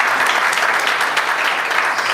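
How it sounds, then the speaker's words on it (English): Loud, steady applause from a hall full of people at a Hindu community conference in a temple, dense clapping filling the whole stretch without any voices. "So that's why I wanted a round of applause for it"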